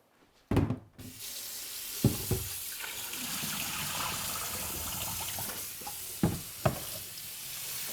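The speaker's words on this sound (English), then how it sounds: "So hold up each leaf and get some good water in there" Tap water runs steadily over salted cabbage leaves being rinsed for winter kimjang kimchi, a continuous sink wash with a few louder splashes and knocks as leaves are handled, no talking.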